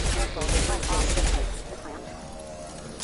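Gunfire in the Mass Effect 2 video game, a rapid burst of fusillade shots for about a second and a half before fading into quieter background, with voices mixed in.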